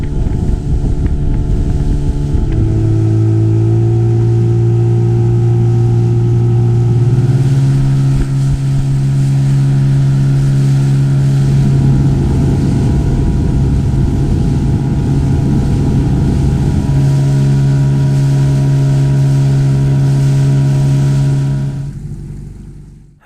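A boat's engine drones loud and close as it heads out of Loch Buie, a steady tonal hum that rises in pitch partway through with wind noise over it, then fades out at the end.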